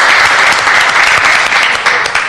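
Audience at a city council Trade, Commerce and Tourism committee meeting breaks into steady, loud applause, a dense wash of clapping that holds throughout without pause.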